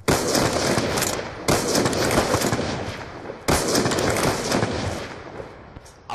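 Heavy automatic gunfire from a Call of Duty match, loud dense bursts in three long stretches separated by brief gaps, with no talking over it.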